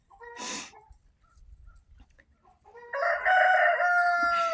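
Chickens in a straw-bedded coop in winter, with a short cluck and soft scratching, then a loud, close rooster crow stretching out over the last seconds.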